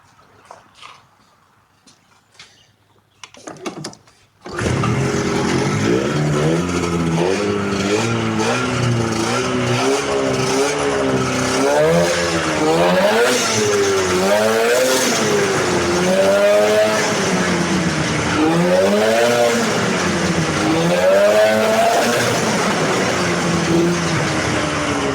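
A racing snowmobile, its track stiff from sitting five years, fires up after a few seconds of faint handling noises. The engine then runs loud and close, with repeated rising and falling revs.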